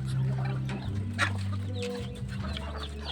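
Backyard free-range chickens and chicks cluck and peep at feeding time, several birds close by over a constant low hum, with soft chirps scattered throughout.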